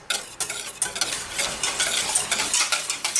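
A spoon stirs sugar melting in a warm pot for yogurt pudding, producing continuous close scraping and light clinking over a soft sizzle.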